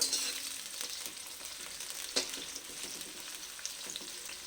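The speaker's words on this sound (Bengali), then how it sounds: "দেখো কপিটা আগে ভেজে নিচ্ছি এখন" Cauliflower pieces fry in hot oil for vegetarian fried rice, giving a steady bright sizzle throughout with a few sharp spatters and clicks, close and fairly loud, no voices.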